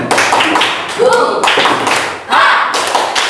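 Schoolchildren in a classroom clap out a rhythmic 'tepuk semangat' chant, with quick bursts of loud group claps and chanted voices, all close and energetic.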